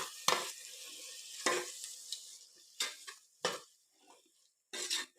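A spoon stirs curd into chicken for Chennai biryani, giving short scraping, squelching strokes in an uneven rhythm with brief pauses between them, close and fairly quiet.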